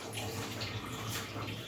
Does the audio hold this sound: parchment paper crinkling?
no